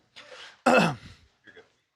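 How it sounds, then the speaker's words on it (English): Someone clears their throat with a harsh, raspy burst, preceded by a breathy exhale and followed by a faint short sound. "Hold on, I had to clear my throat."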